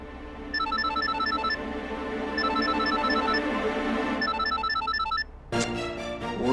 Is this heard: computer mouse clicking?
no